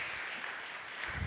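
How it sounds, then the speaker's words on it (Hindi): A church congregation claps for Jesus in a steady, dense burst of applause that fills the room evenly. "Can we clap for our Jesus?"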